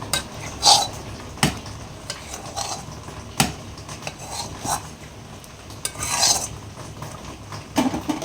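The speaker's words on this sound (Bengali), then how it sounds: "দিয়ে ভালো করে নেড়ে নেবো" A spoon scrapes and clanks in a pot while vegetable khichuri is stirred with fried spices, several sharp metal knocks between softer scraping and rubbing, close and alone with no talk.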